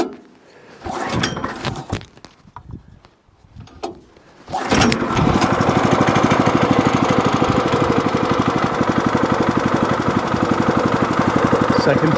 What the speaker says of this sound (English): let's turn the gas on, engine on, go to full choke, and let's see how she does.